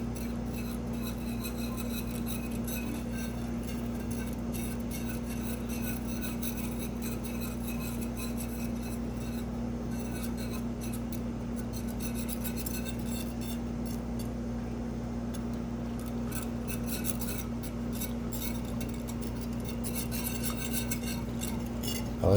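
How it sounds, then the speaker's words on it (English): A spoon scraping and rubbing steadily around a metal pot of cannabis-infused milk, continuous close stirring over a constant low hum, with no talk. "So now what you want to do is just stir it every couple minutes like so."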